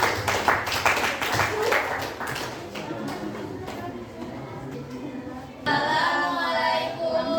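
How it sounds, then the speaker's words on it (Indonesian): A classroom group claps for a presenting team during a teaching-practice session, a burst of brisk hand claps that tapers off while a teacher's voice carries over the room. "Silakan, tepuk tangan untuk kelompok berapa?"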